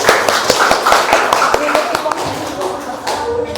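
An audience gives a group a round of applause, dense steady clapping lasting several seconds, loud and close, with a few voices mixed in.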